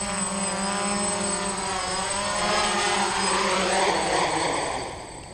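A DJI F550 hexacopter with a Naza M v2 controller, flying in failsafe return-home mode, gives off a steady, loud multi-rotor whine with harmonic layers that stays continuous and swells slightly before easing near the end.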